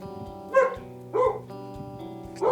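A dog barks three separate times, each a clear, close, loud bark spaced about a second apart, with a soft tonal hum in the background between barks.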